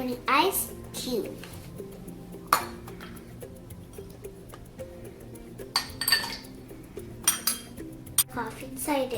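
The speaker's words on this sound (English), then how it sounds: "Milk in the glass and put an ice cube." Milk and an ice cube go into a glass in a home kitchen: light clinks and taps of glass and ice scattered over several seconds, close and crisp, with soft kitchen clatter and a voice in the background.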